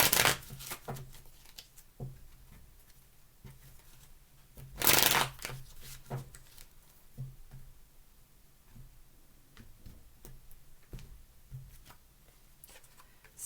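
Tarot cards are shuffled close by in a soft, repeated riffle of papery flicks and taps, with louder bursts at the start and midway.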